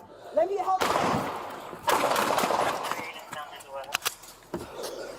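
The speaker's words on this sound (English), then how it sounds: "Shots fired." Gunshots ring out during a police body camera shooting incident, with several sharp, loud cracks spaced across the moment, some in a quick pair, amid raised voices and scuffling.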